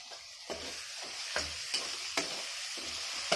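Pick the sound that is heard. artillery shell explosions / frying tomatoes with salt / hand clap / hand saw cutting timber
frying tomatoes with salt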